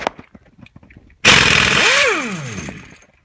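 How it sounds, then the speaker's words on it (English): Impact gun spinning a pulley bolt off a Chevrolet Aveo engine during a timing belt job, a sudden loud burst of high-pitched whirring that rises then winds down over about two seconds, following faint tapping. "you're going to need an impact gun, and just going to put it right on there"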